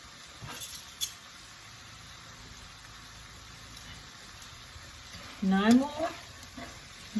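Calamari fries in a pan for a Sicilian recipe, giving a faint, steady sizzle with a brief squeaky scrape near the end.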